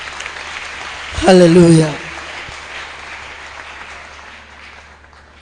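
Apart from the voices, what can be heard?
congregation applauding the Lord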